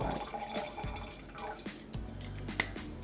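Red wine, a 2015 Concha y Toro Serie Riberas Gran Reserva, is poured from the bottle through a corker pourer into a glass, making a steady liquid trickle and splash with small drips, close and moderately quiet.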